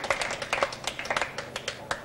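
A crowd claps in scattered, uneven bursts after a shot in a team snooker final at the 1998 Bangkok Asian Games, the applause moderately near and a voice talking faintly underneath.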